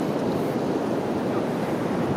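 Ocean waves break at a surf spot, a continuous rushing hiss and low roar with no talk, steady and moderately loud throughout.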